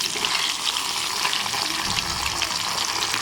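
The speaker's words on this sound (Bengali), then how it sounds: "ফ্যাসা মাছটা ভাজতে দিয়েছি" Fish sizzling in hot oil in a pan on a gas stove, a steady crackling hiss held at close range with no talking.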